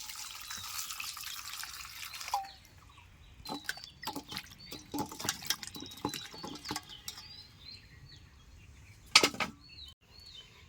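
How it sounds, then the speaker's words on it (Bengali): Whole onions are washed in water: soft splashing, sloshing and trickling close by, with irregular handling knocks and drips that come and go. "গোটা পেঁয়াজগুলিকে আমি ভালো করে ধুয়ে নেব।"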